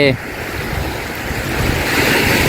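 Sea waves wash onto the shore in a steady, loud roar, with wind buffeting the microphone throughout and a brief voice at the very start.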